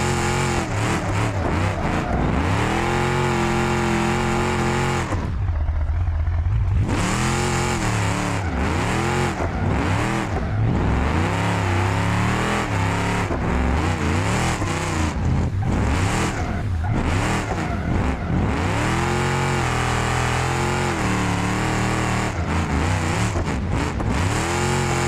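A Volvo in a driving simulator game drifts with its exhaust loud and raw, the engine revving and dropping repeatedly through continuous throttle blips and shifts for the whole stretch.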